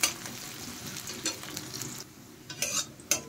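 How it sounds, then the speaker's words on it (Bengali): Chopped onions sizzle in a pan for a duck egg curry, with a spoon scraping and stirring in bursts against the pan over a steady frying hiss and no voices. "এই পেঁয়াজ কুচোনোগুলো কিন্তু ভালোভাবে লাল লাল করে ভেজে নিতে হবে।"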